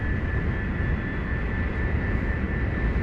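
Aircraft engine drone during a runway landing in the MechWarrior: Living Legends game, a loud, steady, unbroken roar with a constant high whine running through it and no talk.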